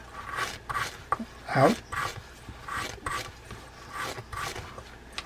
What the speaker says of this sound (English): I also like to use a bristle brush to pull through on those teeth to get any old grease that's in there